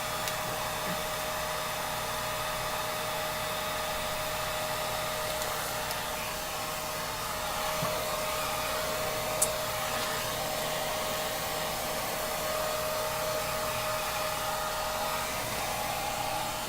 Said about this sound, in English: I'm just going to run the dryer over them real fast, one more second, just to make sure.